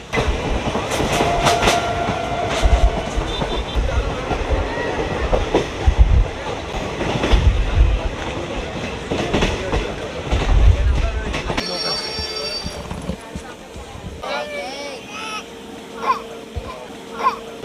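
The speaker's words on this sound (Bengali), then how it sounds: "তো ট্রেন আমাদের ছেড়ে দিয়েছে" The Hazarduari Express train rumbles along between Kolkata and Murshidabad, with rhythmic clattering of wheels on the track, loud and close, then squealing and rattling as it runs on.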